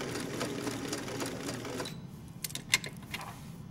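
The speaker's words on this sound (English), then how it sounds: "So you can do 2 little bar tacks down at the bottom. And you notice that it's a small zigzag and it's very tight," A sewing machine stitches a tight, small zigzag bar tack at the bottom of a jeans fly front, whirring steadily for about two seconds before stopping, followed by a few light mechanical clicks.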